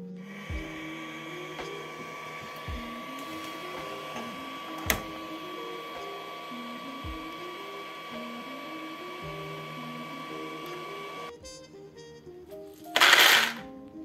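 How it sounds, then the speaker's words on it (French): A 3D printer printing a part in a home workshop, its stepper motors whirring in stepped melodic tones with a steady hum, a sharp click partway through, then a louder rising whir near the end. "je l'ai isolé parce que ça fait du bruit quand tu commences à imprimer toute la journée"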